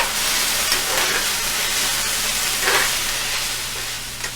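Chow mein noodles being stir-fried with light soy sauce in a Chinese restaurant-style pan, a steady close sizzle with a low hum underneath and no talking.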